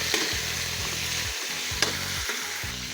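Meat sautéing with garlic and onion for igado, a bright steady sizzle with a few spatula scrapes, close up, while a low tonal hum drones underneath.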